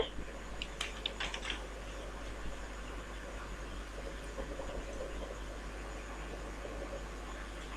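Keys pressed on a computer keyboard while entering field names into a Microsoft Access table, faint light clicks scattered over a steady loud hum and hiss of background noise, with no talking.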